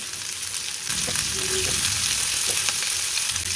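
Sliced onions sauté in hot oil for a drumstick and beef kuzhambu, a dense, close sizzling hiss that swells slightly as stirring scrapes through the pan.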